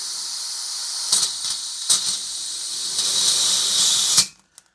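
Gas hissing steadily into a Tokyo Marui Saiga-12K gas-blowback shotgun magazine through its valve, a close, bright hiss that swells and pulses slightly before cutting off abruptly, followed by a faint click.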